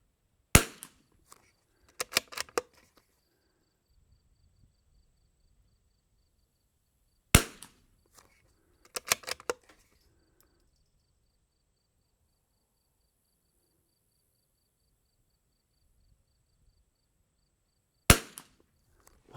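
A CZ 457 rifle with a Shilen barrel in an MDT XRS chassis fires Eley Tenex rounds outdoors, sharp isolated cracks with short clusters of clicks between them and long quiet gaps.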